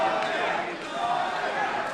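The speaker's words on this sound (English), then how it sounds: "You hear the crowd split actually now between Walker and Duggan." At a live fight event, an indoor crowd roars and cheers continuously, a dense wash of voices split between two fighters, with commentary running over the top.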